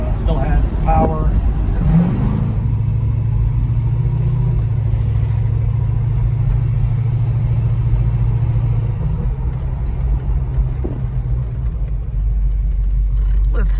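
A 1972 Plymouth Satellite Sebring Plus with rebuilt suspension drives along a side road in Mexico, its engine a steady low rumble throughout with road noise, a slight surge early on, and someone talking over it at times.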